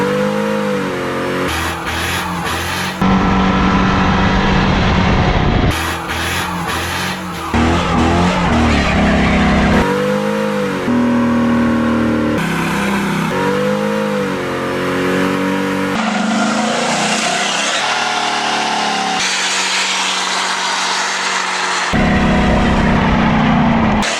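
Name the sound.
Chevy Colorado truck with LS swap doing a burnout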